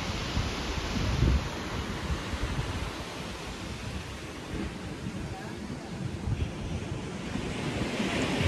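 Heavy surf rumbles and crashes continuously on Ungapan Beach on the south coast of Malang, Indonesia, with a loud surge near the start, steady washing roar and some wind noise throughout.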